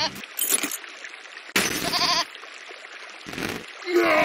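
A goat bleats in a glitchy video game, with several loud, wavering cries that break off abruptly and are mixed with noisy digital bursts.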